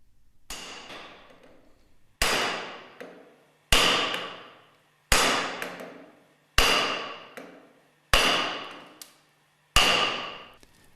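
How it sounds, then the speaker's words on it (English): Seven sharp hammer blows land at an even pace, lightly tapping a clutch driver down onto a hard PVC mandrel, each ringing out and fading before the next, in an otherwise quiet space. "Place on a hard PVC mandrel and lightly hammer the clutch driver downwards."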